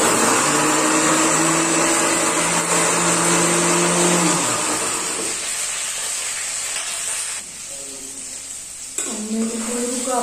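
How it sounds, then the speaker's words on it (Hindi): A kitchen mixer grinder whirs loudly as it grinds spices, running at a steady high pitch for a few seconds, then dropping into a lower, fainter whine before spinning back up near the end. "मैं मसाले ग्राइंड कर लूं।"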